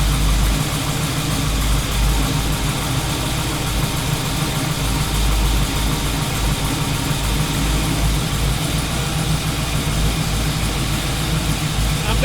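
A 1967 Chevy Camaro engine idles steadily with the A/C clutch engaged, a constant low rumble throughout with a voice talking over it.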